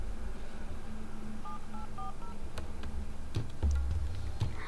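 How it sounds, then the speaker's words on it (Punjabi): A phone number is dialed, producing a short run of distinct keypad tones in quick succession over a low background hum, followed by a few clicks. "ਇਹਨੂੰ ਲਾਵਾਂ ਦੇਖਾ ਫੋਨ ਕੀ ਕਹਿੰਦਾ।"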